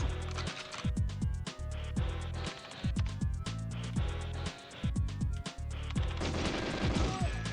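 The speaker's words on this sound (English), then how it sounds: "These guys shoot way too fast." Rapid automatic gunfire from enemy soldiers in GoldenEye 007 rattles in dense, repeated bursts with brief pauses, loud and close, with no talk over it.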